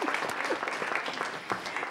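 Audience at a city council meeting giving a round of applause, brisk dense clapping from a modest crowd in a hall, lasting a couple of seconds.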